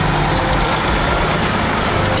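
Heavy truck arriving with a load of blocks at an outdoor site, its engine rumbling loud and close with a hiss of air brakes.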